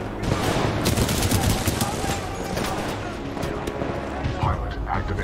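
Sustained supporting gunfire in Titanfall 2, a loud, continuous fusillade of rapid shots that thins out toward the end, with a voice speaking over the battle.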